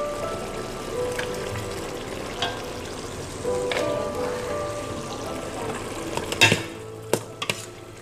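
Duck being stir-fried in a pan with oyster sauce for a home-style Lao-Thai baked duck dish, steady sizzling under scraping and stirring, with sharper clinks of a utensil against the pan near the end.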